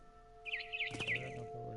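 Bird chirps in What Remains of Edith Finch, a quick run of high, bright tweets rising and falling over a steady game music drone, with a brief thump and a soft voice near the end.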